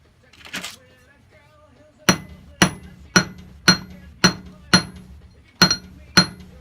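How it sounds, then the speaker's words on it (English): Eight sharp metallic hammer strikes land on a copper ring in a steady, evenly spaced rhythm, close and ringing, after a brief murmur and faint shuffling. "go with a flat hit to try and take care of the ridge on the inside, hammer it down"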